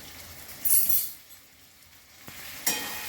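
Ground coriander, chilli and cumin are stirred and sautéed in a pan, a soft sizzle under scraping, with a sharp clink of a utensil early on and another near the end.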